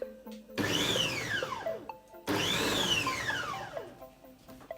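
Electric chopper blitzing pan-fried vegetables in two short bursts, each a loud rising whine that sweeps down as the motor spins up and coasts, with a brief pause between pulses and no talk.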